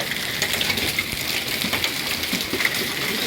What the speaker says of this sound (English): That's about pea-sized hail.